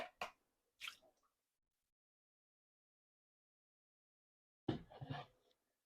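Liquid pours out of a jar in short wet bursts during meat canning: two brief glugs, a long pause, then a longer gurgling pour, all close and fairly quiet.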